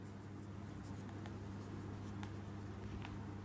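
A pen scratches quietly on paper while a math solution is written out, a faint continuous scrawl close by with no speech.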